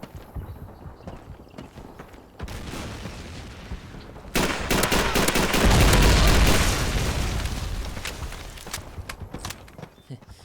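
MP40 submachine gun fire in Call of Duty 3, a loud dense rattle of close shots that swells in the middle and carries on steadily, with hoof-like clattering and booming battle noise around it.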